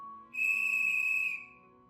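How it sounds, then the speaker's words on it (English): A lifeguard's whistle at a campground gives one loud, shrill, sustained blast of about a second, then cuts off, leaving quiet room tone. "whistle shrieked through the campground, startling campers and counselors alike"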